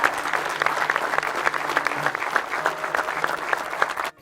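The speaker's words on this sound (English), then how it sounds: "Big round of applause for Joe." A crowd at a charity event gives a big round of applause for Joe, dense continuous clapping with scattered louder claps that stops abruptly at the end.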